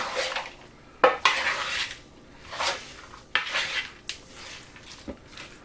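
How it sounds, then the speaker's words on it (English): Pulled pork stirred in a metal pot, with a spoon scraping and clanking against the sides in irregular bursts, close and fairly loud, with no talk. "But stir this around real good."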